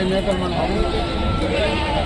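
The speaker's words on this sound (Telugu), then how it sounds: "ఎనిమిది మేకలు" Goats bleat at the weekly Rajarampalli livestock market where goats and sheep are sold, with repeated calls rising over a steady hubbub of people talking nearby.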